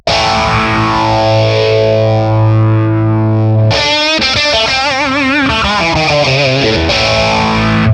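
A guitar runs through a TONEX FX overdrive effect, a sustained distorted chord ringing first, then a burst of gritty, driven single-note lines with bends, loud and continuous throughout.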